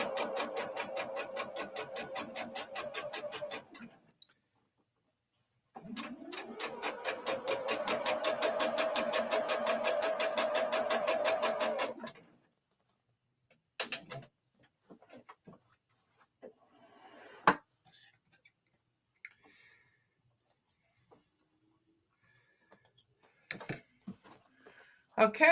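Sewing machine stitching a quilt-as-you-go mug rug, two steady whirring runs of rapid needle clatter separated by a pause, then scattered handling clicks and rustles as the fabric is shifted.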